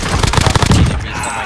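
Rapid automatic gunfire in the Modern Warfare Warzone battle royale game, a loud close burst of machine-gun shots in quick rhythm that tails off into a fading echo.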